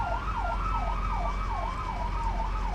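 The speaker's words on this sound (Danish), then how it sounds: "Er det en politibil igen?" A police car siren in Arma 3 Altis Life wails in a steady rising and falling cycle, loud and continuous over a low engine rumble, with no voices.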